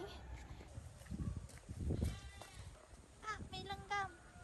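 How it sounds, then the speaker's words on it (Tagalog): A goat bleats two or three short, wavering cries near the end, after soft talk and rustling outdoors in nature in Thailand. "Oh, may kambing!"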